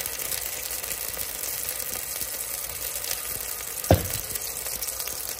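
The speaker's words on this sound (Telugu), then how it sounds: "కొన్ని ఉల్లిపాయ ముక్కలు, పచ్చిమిరపకాయ ముక్కలు వేస్తున్నాం" Onion and green chili pieces frying in hot sesame oil inside a cooker make a steady, even sizzle throughout, with one brief clink of a utensil partway through.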